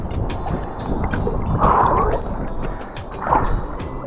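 A kayak is paddled out on open water in Texas, with close, steady splashing and swishing of paddle strokes blended with wind rushing over the microphone and lapping water.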